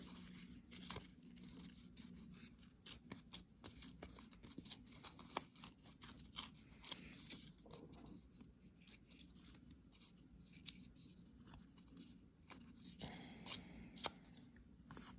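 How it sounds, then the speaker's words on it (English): Paper being torn by hand into a heart shape: a quiet series of short rips and rustles, irregular and close, with no talking. "create a heart shape by tearing some pieces of paper"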